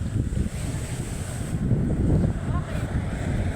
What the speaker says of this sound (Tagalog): Yang mga yan, tubig dagat yan. Tumatalon.